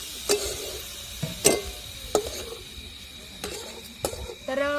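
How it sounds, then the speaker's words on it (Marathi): Onion, tomato and spice masala is sautéed in a pan, with several sharp spatula scrapes and clinks against the pan over a faint low sizzle, close and uneven in rhythm. "हा सगळा मसाला आपल्याला दोन मिनिटं चांगला परतून घ्यायचा आहे"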